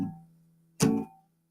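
Guitar chord ringing briefly, then one percussive strum choked by fingers released and flattened on the strings, a short damped thud that dies out quickly, close and alone.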